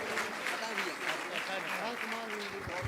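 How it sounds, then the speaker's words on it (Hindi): Applause from the audience at a live religious discourse gathering in Jabalpur, steady clapping of a sizable crowd with a voice speaking over it throughout. "एक बार जोरदार तालियां उसके उत्साह वर्धन का हेतु बने।"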